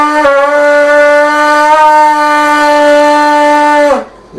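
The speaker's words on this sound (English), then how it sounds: "you get a shofar, and you blow with that resonance through at the point of the lips" A shofar ram's-horn blast, one sustained bright tone held steady for about four seconds before cutting off, loud and close with no voices.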